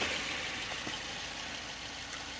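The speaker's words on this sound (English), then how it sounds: "The engine runs beautifully, and we have just replaced the timing belt." A 1994 Volvo 940 engine with a freshly replaced timing belt idles steadily, a continuous, even mechanical hum with no talking.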